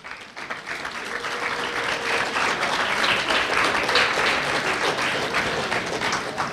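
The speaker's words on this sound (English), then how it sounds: "Just give yourself a round of applause, parents." Sustained applause from a crowd at a high school commencement ceremony, directed at the parents, swelling from a quiet start into steady dense clapping that carries on throughout.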